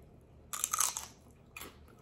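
Close, loud crisp crunches of someone biting into raw celery spread with peanut butter: one sharp bite with a crackling break, then a second shorter crunch.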